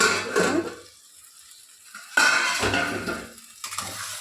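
A cooking pot of boiling dal has its lid put back on, giving a sharp metallic clatter of cookware partway through, followed by quieter kitchen clinks.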